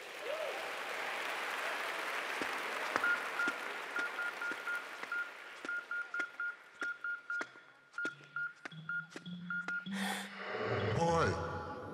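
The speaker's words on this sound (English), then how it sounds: "Give yourselves a big round of applause" Audience applause at the 17th annual Webby Awards show, a broad wash of clapping that thins into scattered claps, with beeps and short tonal sounds cutting through near the end.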